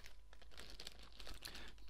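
A plastic bag holding the sprues of a Riich Models Universal Carrier Mk.II and 6 Pdr anti-tank gun kit crinkles and rustles softly and continuously, close up and faint, with no voice.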